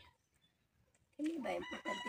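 Near silence with faint rustling, then a rooster suddenly crows loudly nearby, its call rising and breaking over a second.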